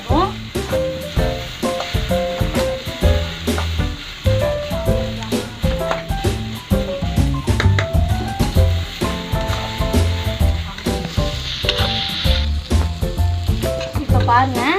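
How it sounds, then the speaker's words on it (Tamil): Okra being sautéed in hot oil for a Tamil stir-fry, loud close sizzling broken by frequent rhythmic scraping and knocking of a spatula on the pan, no speech. "நல்லா எண்ணெயிலேயே நம்ம சுருளை இதை வதக்கிக்கணும்"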